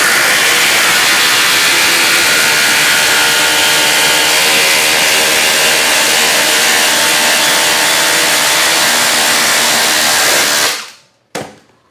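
DeWalt XR and Milwaukee Fuel impact drivers driving side by side in a tool test, a loud continuous buzzing, hammering drive that runs for about ten seconds, then cuts off abruptly, with a brief burst after.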